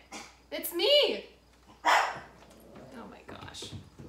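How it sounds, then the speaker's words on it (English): A pet dog barks in short bursts at home, convinced someone is at the front door; loud, close barks come in two main bouts with softer yips between, and a person talks over them. "Oh my gosh, this dog. He thinks someone's at the front door."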